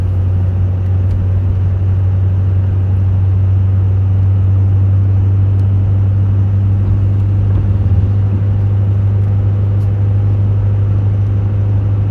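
A deep, steady engine rumble drones on without a break, like a large truck idling or cruising, loud and unchanging throughout.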